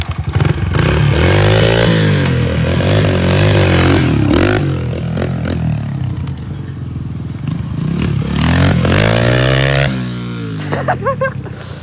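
A motorcycle is ridden hard around a parking lot, its engine loud and close, revving up and down with rising and falling pitch. Clattering thumps and scrapes break in throughout.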